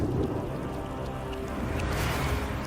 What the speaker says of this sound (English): Until the retroact rain began to fall.